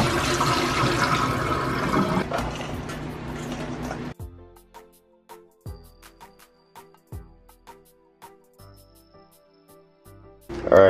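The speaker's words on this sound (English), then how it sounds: "So you rinse the mixed vegetable for about 2 times as well" Tap water pours steadily as frozen mixed vegetables are rinsed, then stops and leaves quieter drips, splashes and knocks in a kitchen sink.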